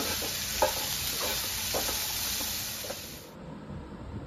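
Garam masala powder being stirred into frying masala chana in a pan, giving a steady close sizzle and hiss with a few soft scraping strokes of the spoon, alone with no talk.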